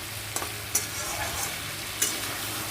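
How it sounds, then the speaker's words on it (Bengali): Ground spices with cumin and coriander powder stir-fried in a pan for a light pumpkin and fresh fish curry, giving a steady soft sizzle broken by a few sharp scrapes of the spoon, close by. "এবার সুন্দর করে আমি কষিয়ে নেব যতক্ষণ কাঁচা গন্ধটা না যাবে ততক্ষণ আমি কষিয়ে নেব"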